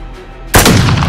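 One loud, close gunshot from Modern Warfare (2019) cracks out after a quiet half second, with a brief rumbling tail that follows it.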